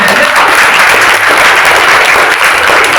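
Loud, dense applause from a large audience at a spiritual talk on the guru, filling the whole stretch with steady, close clapping and no voices over it.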